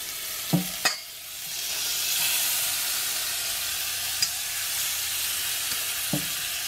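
Marinated shrimp sizzle in avocado oil in a pan, a steady broadband hiss after a few sharp clinks near the start, with a couple of faint taps later and no talking.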